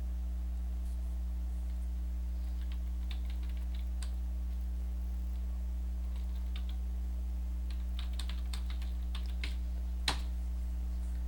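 Typing on a computer keyboard: sparse, light clicks in short bursts, faint over a steady low electrical hum, with one sharper keystroke near the end.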